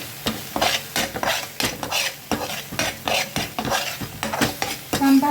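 Masala roasting in oil in a pan, a loud close sizzle with quick repeated scrapes and clinks of a spoon against the pan, steady and rhythmic throughout, ending on a short metallic ring.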